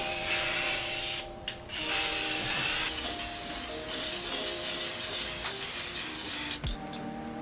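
Primer sprayed from an aerosol spray can onto a vintage wooden lamp table, with long loud hissing bursts broken by a few short pauses and a clicking nozzle release near the end.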